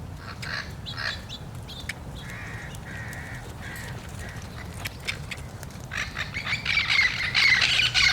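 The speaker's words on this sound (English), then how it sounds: "We have the lovely morning birds." Morning birds call repeatedly in the open, with crow-like caws and squawks rising over a low steady background, growing busier toward the end.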